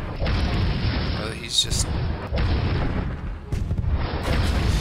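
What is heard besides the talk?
Striker missiles exploding in video game Tanki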